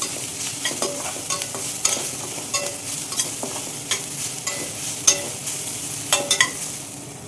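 Spices and vegetables for a Telugu curry fry in hot oil with a steady sizzle, broken by repeated sharp scrapes and clicks of a spoon stirring in the pan.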